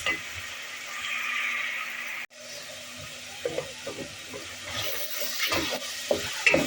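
Meat browning in oil for a Turkish pea and meat stew, giving a steady sizzling hiss broken by stirring clatter and brief spatter pops, close and moderately loud.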